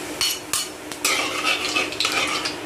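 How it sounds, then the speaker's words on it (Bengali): Panch phoron spices frying in a pan for a samosa filling: a loud, dense crackle and sizzle with several sharp clinks of a metal spoon on the pan, heard up close. "তো 5 ফোড়নটা অল্প ভেজে নিলাম।"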